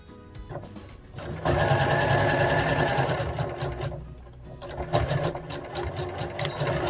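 Sewing machine running regular stitches with back stitching on a bear hoodie, a loud close whirring motor in bursts that speed up and slow down, with brief pauses between runs.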